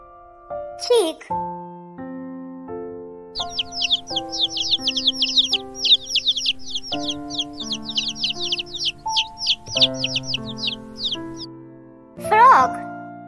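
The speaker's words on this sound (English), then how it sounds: "Chick." A chick peeps in a long run of quick, high chirps over gentle background music, with a voice briefly before and after.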